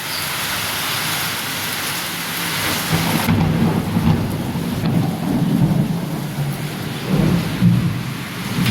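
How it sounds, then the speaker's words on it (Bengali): Heavy rain pours down steadily outdoors, a loud, dense hiss of drops on surfaces, while deep thunder rumbles and rolls underneath, swelling in several long low waves, with no voices. "এত ঝমঝম করে বৃষ্টি পড়লেও"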